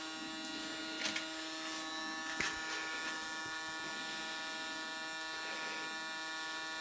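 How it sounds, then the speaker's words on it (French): A pump runs to purge product through capillary tubes, giving a steady electric hum and buzz with a few faint clicks over it, with no talk. "La pompe étant couchée, on peut démarrer la purge. Donc le produit va commencer à circuler à l'intérieur du capillaire."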